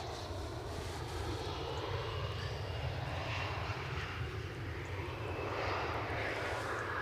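An Air France Boeing 767-300 airliner lands at Edinburgh Airport, its jet engines a steady, broad rumbling roar that swells slightly, faint and distant, with no talk.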